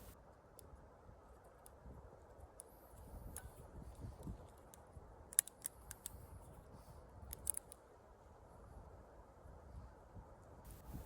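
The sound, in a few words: trimming a chicken's beak with a human toenail clipper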